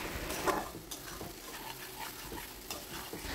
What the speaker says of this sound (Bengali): আলুগুলোকে মশলার সাথে কিছুক্ষণের জন্য কষিয়ে নিতে হবে।